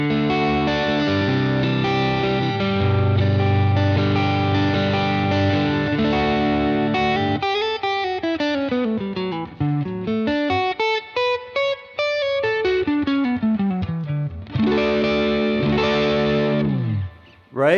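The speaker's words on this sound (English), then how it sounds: "now you kind of could hear what the kind of natural overdrive sound is" An electric guitar through a Universal Audio Dream 65 pedal plays with a gritty, overdriven distortion tone, first sustained chords, then a run of notes sliding up and down.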